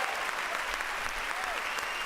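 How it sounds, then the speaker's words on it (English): A studio audience at a music talk show gives dense, continuous applause, loud and close throughout, with a few voices mixed in. "Thank you for the applause."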